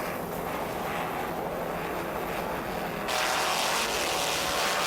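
The engines of a 42-foot Fountain racing powerboat with twin 1,000 horsepower Mercury inboards and Mercruiser drive roar in a steady, loud drone that grows brighter and louder partway through, with no voices.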